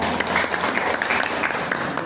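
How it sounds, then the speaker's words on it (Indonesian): Audience clapping at an anti-corruption outreach talk, a dense, steady burst of many hands applauding together for about two seconds, fairly loud and close. "Tepuk tangan."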